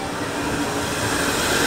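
Train running along railway tracks, a steady broad rumble with a faint whine, close and continuous throughout without any voices.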